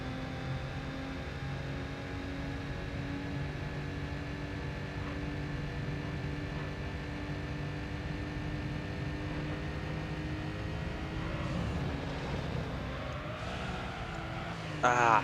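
A small prize car from the Gran Turismo 3 racing game drones with a steady engine note through a race lap, holding a constant pitch before a brief shift near the end.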